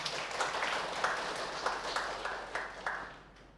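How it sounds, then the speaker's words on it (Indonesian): A church congregation claps together during a sermon, a dense, even patter of many hands heard from some distance that holds steady and then thins out toward the end. "Kasih tepuk tangan saudara"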